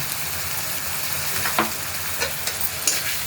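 Chillies, turmeric and cumin powder with a little sugar stir-frying in hot oil, a close steady sizzle with a few sharp spatula scrapes and clinks, no talking.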